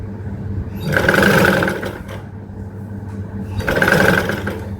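Two bursts of a sewing machine stitching a blouse belt, each a rapid, close, whirring run of needle strokes about a second long, with a brief pause between them.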